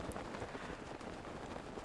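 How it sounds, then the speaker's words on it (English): Steady rain falls in the Zelda: Breath of the Wild video game, a soft, even wash of droplets with no talking over it. "Can we please move to an area where it's not raining?"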